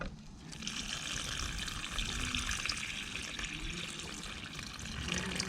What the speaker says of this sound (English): Let me pour out some of this water.